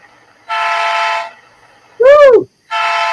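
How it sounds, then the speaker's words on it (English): Electronic model train sound effects triggered from a phone: two steady whistle blasts bracketing a bending, wailing horn-like tone, loud and close, each lasting about a second. "I'll hit a button on my phone saying the whistle"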